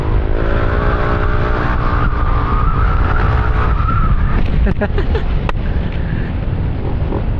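A loud, continuous motorcycle engine with a JVT V3 and 11g flyballs drones and revs close by, its pitch rising and falling, with rattling and scraping noises toward the end.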